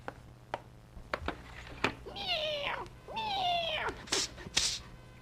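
A cat sound effect on an old radio comedy show gives two long, drawn-out whining meows, close and clear, amid scattered knocks and clicks, with a quieter high squeal near the end.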